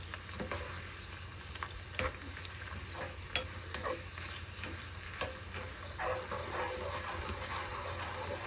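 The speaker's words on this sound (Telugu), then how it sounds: "అన్నీ వేసి ఇట్లా తాలింపు వేసుకోవాలండి." Chana dal, mustard seeds, urad dal, cumin, dried red chillies, garlic and curry leaves fry in hot oil for a tempering, giving a steady close sizzle with scattered pops, crackles and occasional stirring scrapes throughout.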